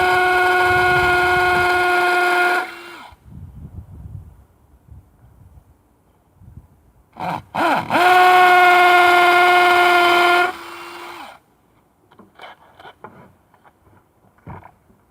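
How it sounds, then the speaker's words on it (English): A cordless drill bores into a wall to fix vine eyes for training an old wisteria, giving two loud, steady, close whining bursts of about three seconds each. Quieter handling clatter sits between and after them. "Let's drill a few in there and then get a few of these vine eyes in one on one."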